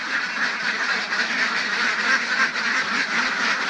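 A crowd of ducks on a duck farm quacks constantly, overlapping nasal calls forming a busy, close chorus with no talking.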